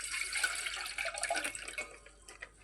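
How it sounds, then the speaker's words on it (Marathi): Milk poured into a pan holding a little water splashes and trickles in a close, uneven stream that thins and tapers off toward the end. "त्याच्यात टाकूया दूध"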